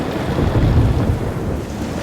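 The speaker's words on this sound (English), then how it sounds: "Watching the angry storm seemed very familiar." An angry thunderstorm with wind and rain, a loud steady wash of rainfall and gusts with deep thunder rumbling through the middle, no speech.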